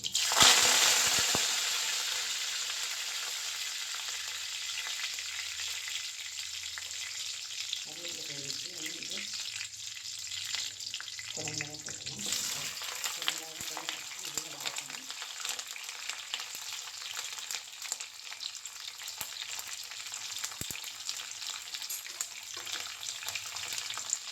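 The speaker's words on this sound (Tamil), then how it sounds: "எண்ணெய் சூடாகிடுச்சு கடுகு போடுவோம் கடுகு பொரிஞ்சிருச்சு கருவேப்பிலை" Mustard seeds and curry leaves crackle and sizzle in hot oil in a kadai, a steady close frying hiss with brief spatters and clinks partway through, no talk.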